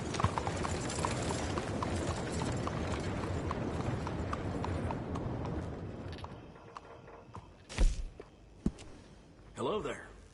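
Horse hooves clip-clop at a steady trot in Red Dead Redemption 2, a dense rhythmic patter that fades after a few seconds, followed by a few isolated clanks and a short voiced sound.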